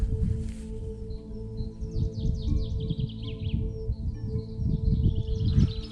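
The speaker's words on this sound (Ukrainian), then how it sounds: "Послухайте пташок." Birds chirp and trill at the edge of a forest along a river floodplain in early spring, with patchy snow still lying in the shade. Quick repeated twittering phrases carry clearly over a low background hum.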